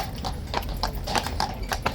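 Horse hooves clip-clopping at a walk, close by, as a King's Guard horse pushes through a crowd, a steady uneven clatter of hoof strikes on a hard surface.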